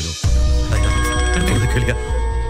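A telephone rings loudly and close in a Tamil film scene, a steady electronic tone with sustained harmonic ringing under brief speech.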